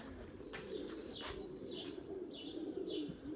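Pigeons coo softly in a loft, several low, rolling calls close by over a steady background hum, with a few faint chirps mixed in.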